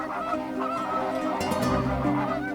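A flock of flamingos in the Spanish wild gives nasal, goose-like honks that overlap in a busy chorus. A louder burst of calls rises near the middle over a constant background murmur.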